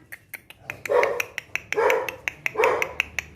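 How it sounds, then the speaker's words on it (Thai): A dog barks repeatedly at close range: several sharp yips and three longer, louder barks in quick succession, with sharp clicks sounding between them. "ทั้งหมาเห่าทั้งนำโชค"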